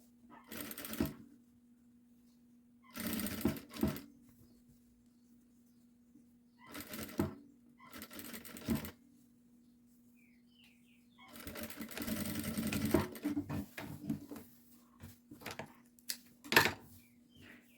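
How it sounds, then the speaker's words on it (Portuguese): Sewing machine stitching a seam on a child's garment, several short bursts of rapid mechanical chatter separated by quiet pauses, with a low steady motor hum running underneath. "E aqui eu vou passar a costura"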